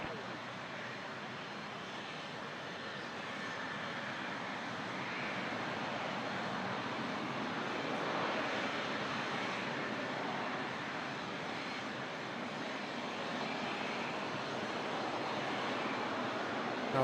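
A Qatar Airways jet airliner rumbles at Toronto Pearson airport, a continuous distant broadband engine roar that swells slightly and holds steady, with no talk heard.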